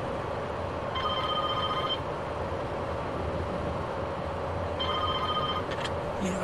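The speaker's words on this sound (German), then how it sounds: "Oh. Telefonat." A telephone rings in the cab of a Class 103 locomotive hauling an ICE set in Train Simulator, two separate bursts of ringing over a steady low rumble of the running train.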